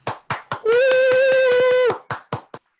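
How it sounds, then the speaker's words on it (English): Audience at a Toastmasters speech-craft session in Chennai claps in sharp, separate bursts, then a long loud whistle rings out over continued clapping before a few final claps. "Let us clap and whistle for 30 seconds continuously without any gap"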